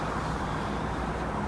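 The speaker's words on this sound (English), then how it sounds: "Sorry for the background noise, I live on a busy street." Busy street traffic in the background, a faint continuous low rumble of passing cars and road noise, distant and steady with no talking.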